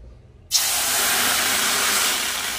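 Water gushing over fried mung dal to wash it, a loud, steady rushing hiss that starts abruptly after a brief quiet moment and continues evenly, close by.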